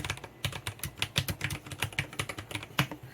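Typing on an Eyooso Z11 budget 60% mechanical keyboard, with quick, irregular clacky keystrokes close up and a few louder presses standing out, no voices.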